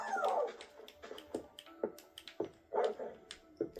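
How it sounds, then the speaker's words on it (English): Minecraft wolves give short barks, yips and whimpers in an irregular string of separate calls, fairly close and clear against a quiet background. "Do actual wolves make these sounds?"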